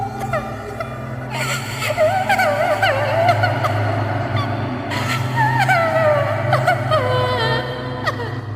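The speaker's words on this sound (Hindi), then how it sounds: "ठीक उस वक्त मुझे किसी की रोने की आवाज सुनाई दिया" Wailing, moaning cry used as a sound effect in a Hindi horror story, loud and sustained with rising and falling tones over a low droning background, no speech.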